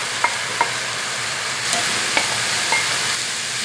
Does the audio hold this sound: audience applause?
no